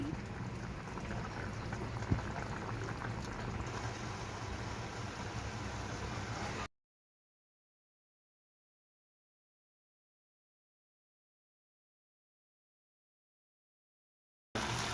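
Vermicelli upma boils on a stove over high flame, giving a steady hiss of bubbling for several seconds before a long stretch of silence and then a brief return.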